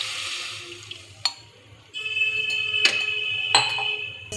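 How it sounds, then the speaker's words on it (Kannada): Ginger water is poured into a pan for making ginger candy. A soft watery pour is heard with a few sharp metallic clinks of the pan and utensils, close and fairly quiet. "ಜಿಂಜರ್ ನೀರು ಹಾಕ್ಕೊಳತ್ತೀವಿ."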